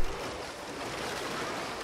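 In Civilization VI, water and waves sound as a unit moves onto the water: a brief, steady wash of surf and wind-like hiss at moderate level.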